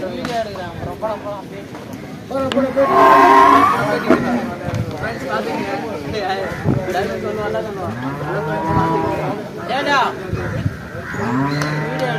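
Buffalo moos repeatedly nearby, several long loud bellows overlapping with people talking throughout.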